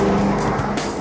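A 662-horsepower Ford Mustang V8 road car driving hard, its engine a loud, steady roar with tyre squeal and skidding noise running throughout, close and continuous with no voices.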